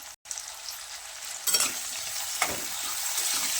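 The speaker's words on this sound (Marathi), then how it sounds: "कांदा चांगला व्यवस्थित भाजून घेऊया" Onion frying in a pan with a little salt, a continuous close sizzle with a couple of short stirring scrapes, alone without talk.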